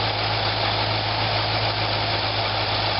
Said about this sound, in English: Listen to the engine, see how it sounds.